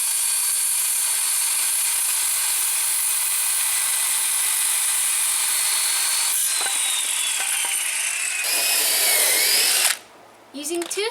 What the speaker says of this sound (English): Using 2 screw guns, one for pre-drilling and one for driving, saves a lot of time and prevents the lumber from splitting.